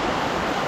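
River rapids on the Tyenna rush as a dense, steady roar of water, loud and close for under a second.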